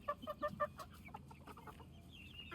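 Marans and olive egger chickens in a backyard grow-out pen, a flock of nine hens and one rooster, giving a quick series of four soft clucks followed by scattered quieter clucking nearby.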